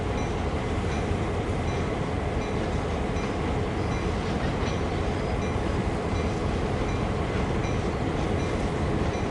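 Diesel locomotives, five coupled together, haul a Canadian National train in a railway simulator game, giving a steady, dense rumble with rolling wheel noise that holds at constant loudness throughout, with no talking.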